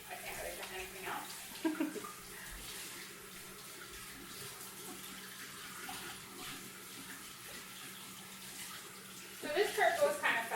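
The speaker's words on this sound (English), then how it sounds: "I'm going to wash my hands really quick here." Water runs steadily from a kitchen faucet as hands are washed during cinnamon roll baking, a constant splashing hiss with louder splashes near the start and end, heard up close.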